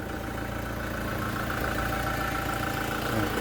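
A Toyota Revo 2.8 4x4 pickup engine idles steadily, a low continuous hum with even mechanical vibration, close by and without talk.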